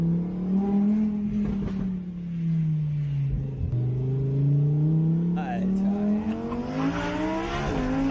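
A loud car engine drones and revs steadily, its pitch sagging and then climbing again as it drives, heard close with some road rumble and a faint tire sound near the end.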